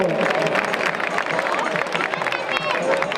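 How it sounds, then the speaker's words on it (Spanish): Crowd at a young bullfighters' recortadores contest gives a loud, sustained ovation for a performer, dense clapping and cheering mixed with crowd babble throughout. "Magnífica ovación para este magnífico recortador. Un aplauso para este recortador."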